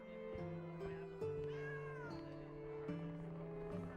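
Cat meowing in the video game Travellers Rest, a few short meows over steady game music and ambient tones, fairly close and moderately loud.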